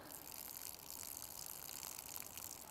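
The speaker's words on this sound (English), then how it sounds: "I'm going to empty some of that water off" Water is poured off a tub of soaked, red-flavoured fishing bait pellets, a steady close splashing gush running without pause for a few seconds, with no talking.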